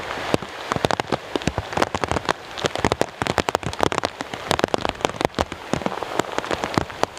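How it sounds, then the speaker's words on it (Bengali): Heavy rain and strong wind lash the Jharkhali area during Cyclone Remal, with dense, close drops pelting surfaces in rapid irregular bursts over a constant roar, loud and without speech. "মুষলধারে মাথার উপর বৃষ্টি, এবং তার মধ্যে এই মুহূর্তে উথাল পাথাল হাওয়া"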